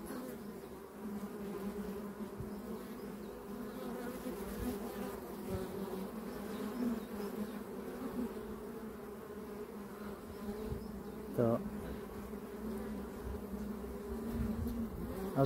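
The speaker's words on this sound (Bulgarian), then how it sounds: "Ето тук пчелите нещо правят." Honeybees buzz steadily at an open top-bar beehive near the Iskar reservoir in May, a close, continuous droning hum with occasional louder passes of individual bees.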